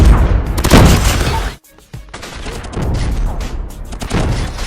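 Rapid bursts of gunfire in Call of Duty Mobile, loud and close, with heavy booming shots in clusters, a brief drop-out near the middle, then renewed firing.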